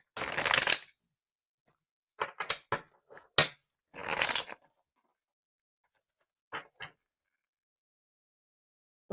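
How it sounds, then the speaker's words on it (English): Bursts of tarot card shuffling, rapid papery riffles and taps, separated by quiet pauses, close and fairly loud. "I was already seeing this card in my head while I was shuffling this deck."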